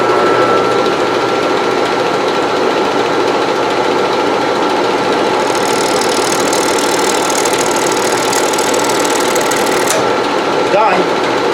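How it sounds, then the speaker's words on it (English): A small live-edge cherry bowl is scraped on a wood lathe. The lathe gives a steady loud motor hum with a dense, gritty scraping texture that brightens partway through, ending with a brief higher whine. "I think I'm going to try scraping."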